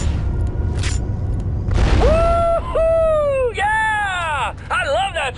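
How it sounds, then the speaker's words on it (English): A deep explosion booms in the Star Wars Republic Commando video game. It hits as a broad rumbling blast near the middle, followed by wavering electronic, voice-like tones over steady background noise. "my scanners show an explosion"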